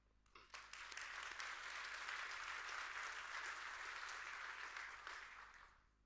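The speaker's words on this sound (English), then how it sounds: "Let's give them a round of applause." Audience applause at a business conference on digitalization and smart cities, a dense burst of clapping that swells quickly, holds steady for several seconds and fades out.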